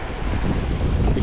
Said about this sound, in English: Bit windy, I'm about to lose my hat, I think.